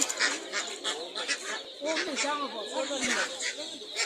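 Ducks quack and chatter in a close, busy cluster, with people talking over the birds in a crowded market setting.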